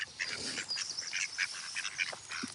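Ducks and geese calling in a lively, uneven burst of honks and quacks, several birds overlapping at close range and moderate volume.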